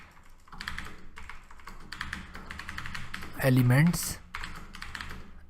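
Fast, steady clatter of computer keyboard typing while Python web-scraping code is entered, close and continuous, with someone speaking briefly over it.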